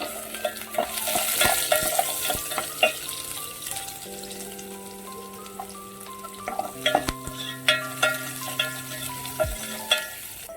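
Chana dal, urad dal, onion and dried red chillies tempering in hot oil for a spinach dal curry, a steady sizzle broken by frequent clicks and scrapes of stirring, with sustained tones humming underneath.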